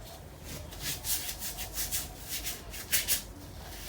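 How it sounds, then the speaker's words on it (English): Skin rubbed by hand to clear away debris before sugar waxing, giving a soft, close, repeated brushing friction in a steady back-and-forth rhythm with no talking. "I'm just going to rub it to free it of any debris."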